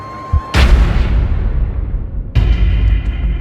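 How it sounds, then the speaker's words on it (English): Two loud, sharp gunshots, the second about two seconds after the first, each followed by a long booming echo that fades out. "heard a gunshot"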